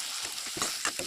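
Tomatoes hit hot oil with fried onions, garlic and ginger in a fish curry pan, giving a loud close hiss with quick crackling spits.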